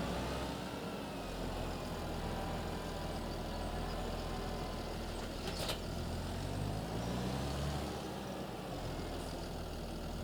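A tractor pulling a planter across a field to sow green beans in a farming video game gives a steady, even engine drone that holds unbroken and moderately loud throughout.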